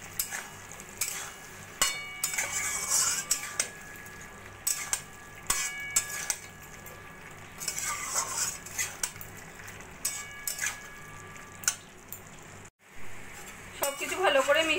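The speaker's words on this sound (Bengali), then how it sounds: "সবকিছু ভালো করে মিশিয়ে নেব।" A spoon stirs a cauliflower, potato and poppy seed curry with mustard oil in a pan, producing light scraping and clinking of metal on metal, irregular and close, with faint ringing tones.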